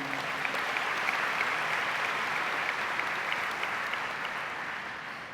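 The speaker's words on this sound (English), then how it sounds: "Could we give a round of applause, please," Audience applause at an annual meeting awards program, a dense, steady wash of clapping from a large crowd that carries on throughout and fades slightly toward the end.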